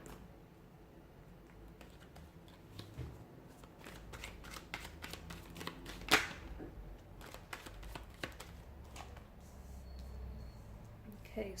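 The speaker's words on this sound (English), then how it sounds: "give the cards a shuffle and begin" Tarot cards being shuffled in quick riffling bursts, with a sharper snap near the middle, close and fairly quiet with no talking.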